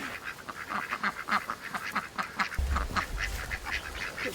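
Ducks in a duck forage pen quacking rapidly and continuously, a dense overlapping chorus of calls close by, with a low rumble joining toward the end.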